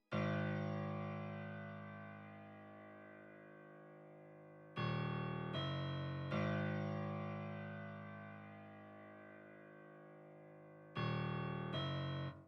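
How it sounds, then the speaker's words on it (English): Sustained piano chords struck at slow intervals, each ringing out and decaying, with a few quick repeated hits in a looping pattern. "I recreated the piano pattern, which then sounds like this"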